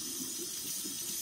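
Tap water runs steadily onto the brush of an iLife Shinebot W450 robot mop, a close, continuous splashing rush with no voices.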